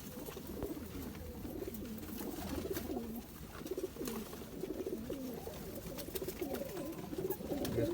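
A male zeera pigeon coos repeatedly in soft, low, rolling phrases, close and continuous over a faint outdoor background.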